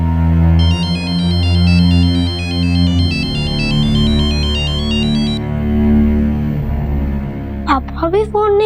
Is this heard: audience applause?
no